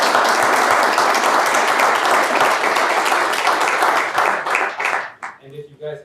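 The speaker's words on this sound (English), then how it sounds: "let's give a round of applause" A room full of attendees at a military policy talk claps loudly and steadily for several seconds, then the applause thins out and fades as a voice begins speaking near the end.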